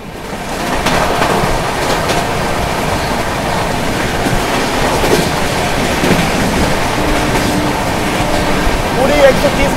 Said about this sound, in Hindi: पूरी 130 की रफ्तार से भाग रही है अपनी ट्रेन